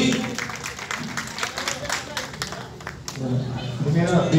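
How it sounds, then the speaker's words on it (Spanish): Applause at a baptism celebration, a steady wash of clapping from a gathered crowd that holds for the full few seconds, with voices talking over it and a swell near the end. "Vengan los aplausos para el abuelo también"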